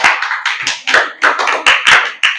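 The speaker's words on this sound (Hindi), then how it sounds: "इसके लिए तालियां।" Short burst of clapping rewarding a correct answer in a general-knowledge quiz, about a dozen sharp claps in an uneven rhythm, loud and close, with no talk over it.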